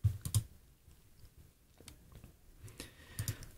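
Mouse clicks on a button in the WooCommerce coupon admin page: a few sharp, quiet clicks at the start and again near the end, with soft clatter between and no talking.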